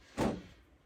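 A drawer shut with a single solid thud, fairly close and brief, followed by quiet room tone.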